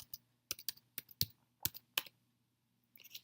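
Sharp keystrokes on a computer keyboard while answering in a French verb word game, coming as quick irregular bursts of clicks with short pauses, close and quiet.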